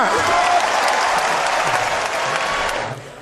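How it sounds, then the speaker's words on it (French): A group of boys in a studio audience claps together in sustained, dense applause for about three seconds, fading out at the end. "Les garçons applaudissez pour vous"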